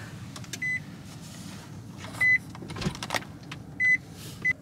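Nissan Leaf electric car being switched on: a series of short, clear electronic beeps sounding at spaced intervals over a quiet cabin hum, fairly close and distinct.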